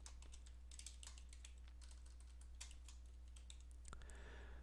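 Rapid clicking keystrokes on a computer keyboard in a quiet room over a low constant hum, ending with a faint rustle.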